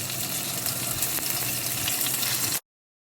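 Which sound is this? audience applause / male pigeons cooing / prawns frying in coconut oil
prawns frying in coconut oil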